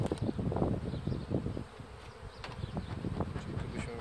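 Honey bees at an open hive buzz in a dense, continuous drone close by, with soft knocks and rustles of frames being handled during a beekeeping split.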